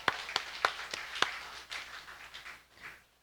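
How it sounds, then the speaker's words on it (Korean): A Korean church congregation at a Sunday morning service claps briefly: a few sharp, close hand claps ring out at the start, then thin into softer, scattered clapping that fades toward silence. "와, 박수 한번 쳐주세요."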